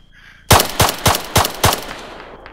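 Five rapid, loud gunshots in an evenly spaced burst from Arma III combat, striking close by, each crack sharp with a short decaying tail.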